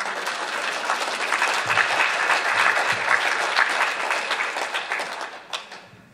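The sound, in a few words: audience applause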